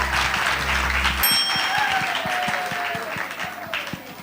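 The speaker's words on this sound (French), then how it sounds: "Bonne réponse, on applaudit." Audience of pupils in a school malaria quiz breaking into rhythmic applause after a correct answer, steady claps close by following a short bright chime.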